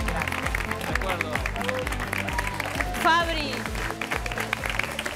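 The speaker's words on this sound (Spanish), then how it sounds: "Un aplauso muy fuerte." Studio audience applause on a televised sewing competition show, steady clapping under loud rhythmic music with a host talking over it.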